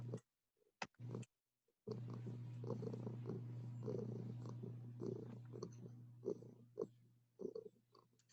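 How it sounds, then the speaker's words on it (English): A house cat purrs steadily and loudly up close, a continuous low rumbling drone lasting several seconds after a few brief bursts and gaps at the start. "No, it's my cat purring."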